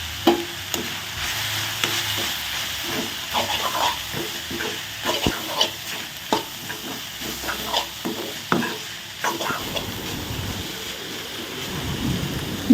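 Small spinach (siru keerai) fries with grated coconut and chili powder in a pan. A soft, continuous sizzle runs under repeated scraping stirs and occasional sharp knocks of the spoon against the pan, with no talk.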